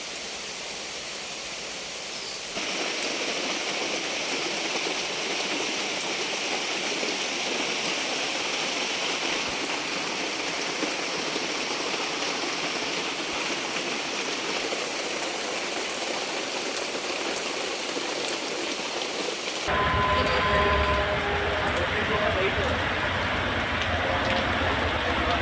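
Steady, dense rain pours down over the town of Napoklu and nearby villages, a broad even hiss with no talk that shifts abruptly to a heavier, fuller wash about two-thirds of the way through.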